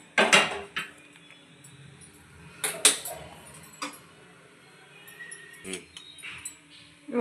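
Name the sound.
placing a pressure cooker on the stove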